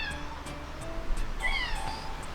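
A pet kitten named Titus meows indoors near the front door, giving a few short, fairly close calls over a steady low background hum.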